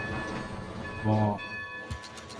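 A train rumbles by in Red Dead Redemption 2, with a short horn-like blast in the middle and a single exclaimed word over the noise.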